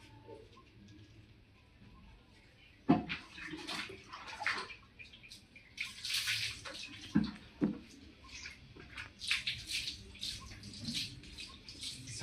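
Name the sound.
running water for a Rottweiler puppy's bath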